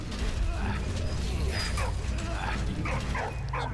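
A dog barks repeatedly in the WWI video game Valiant Hearts: The Great War, in the mines level, a series of short yelps and barks over a dense, rumbling game soundscape with mechanical creaks.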